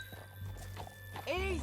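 A horse in Red Dead Redemption 2 gives a loud, sharp whinny near the end, after faint hoof sounds and muffled talk beneath a steady low hum.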